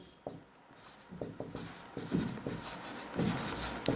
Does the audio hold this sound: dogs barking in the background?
no